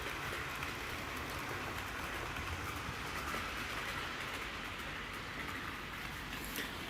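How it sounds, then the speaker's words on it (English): Railway wagons rumble and rattle during a shunting move, a continuous broad rolling noise with faint clanks, steady and fairly distant, with no voices. "Always like a shunting session."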